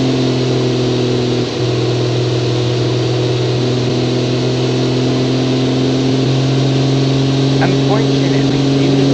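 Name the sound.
car engine accelerating in the video game Automation/BeamNG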